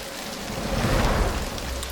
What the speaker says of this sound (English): We're in Scotland. It's raining. We're at the bus stop.